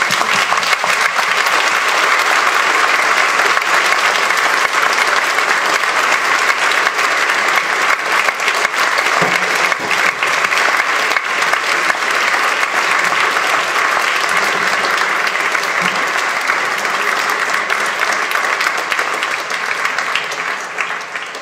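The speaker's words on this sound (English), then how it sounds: "Applause, please." Sustained, loud applause fills a college lecture hall after a talk on socialism, a continuous roar of many hands that holds steady for about twenty seconds before tapering slightly at the end.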